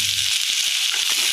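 Chopped large onions hitting hot oil in a pan for prawn masala, a loud bright sizzle filling the short moment with a few soft stirring scrapes.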